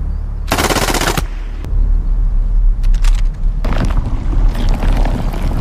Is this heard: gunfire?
yes